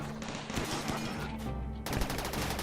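Rapid gunfire from a colony battle in the video game RimWorld, with dense overlapping bursts of shots that keep going throughout at a steady loud level.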